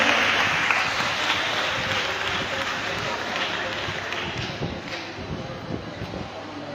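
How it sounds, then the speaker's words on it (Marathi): An audience at a school supplies distribution event for 800 needy students claps in a dense, continuous wash of applause that holds steady, then thins slightly toward the end. "जोरात टाळ्या"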